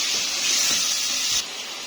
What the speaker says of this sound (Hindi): अब इसमें मैं चिकन डाल दूंगी। मैं 1 किलो चिकन इसमें डाल